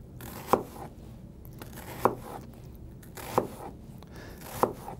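Sharp knife strokes dicing an onion on a cutting board, four crisp, evenly spaced chops with quiet pauses between them, close and alone with no talk.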